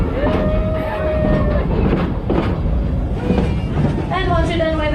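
A Busch Gardens park train rumbles steadily along its track with a continuous rolling clatter, while an announcer's voice talks over the ride.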